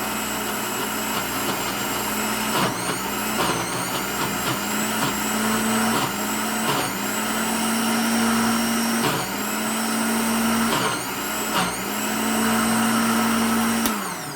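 A blender churns frozen banana with a splash of milk into ice cream: a loud, steady motor whine that repeatedly dips in pitch and recovers as the frozen mix bogs the blades, with no talking.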